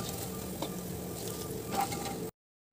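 Curry leaves and other ingredients fry in hot oil, making a steady close sizzle with light stirring taps for about two seconds before cutting off abruptly.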